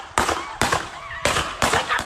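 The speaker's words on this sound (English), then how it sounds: "you can still hear several gunshots" Several gunshots fired during a police shooting in Kenosha, Wisconsin: four sharp, loud cracks spaced roughly half a second apart, each a broadband burst followed by a short decay.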